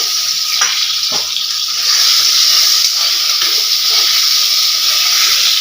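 Cut potatoes frying in a hot spice mixture in a pan, giving a loud, steady hiss and sizzle that runs throughout, with a few faint knocks of stirring beneath it.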